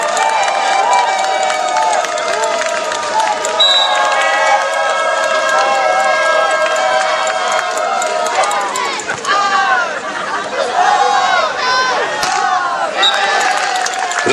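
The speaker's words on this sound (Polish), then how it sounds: "Proszę, wielkie brawa, kolejny punkt dla pary niemieckiej." Crowd cheers and applauds at a beach volleyball third-place match in Mysłowice, a dense, loud roar of voices and claps running throughout with whistles and shouts rising on top.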